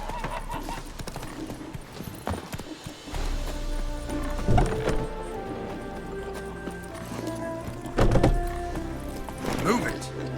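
Horse hooves clip-clop at a steady pace while riding in the video game Witcher 3: Wild Hunt, with louder thuds, a whinny and harness noise rising over the rhythm now and then.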